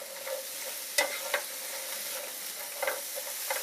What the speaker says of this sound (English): And add your onions. And just go right ahead and start sauteing.